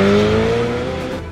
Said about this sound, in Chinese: Portofino 还增强了 Ferrari 所特有的 V8 引擎声浪